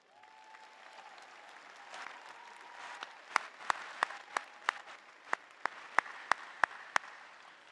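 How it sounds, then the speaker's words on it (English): High school graduation audience clapping for the band and choir, a soft spread of applause that thins into a handful of sharp, separate claps near the microphone, fairly quiet overall. "One more round of applause."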